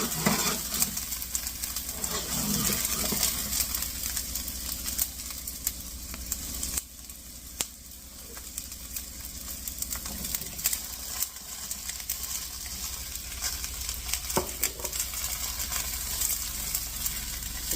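Onions fry and caramelize in a pan, giving a steady, close hiss and crackle with occasional stirring scrapes throughout, and no voices.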